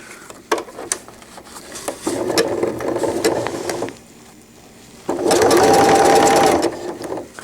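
A sewing machine stitches a cloth diaper cover with gussets, loud and close, running in short bursts then a longer steady whirr, broken by pauses where the fabric is turned with the needle down.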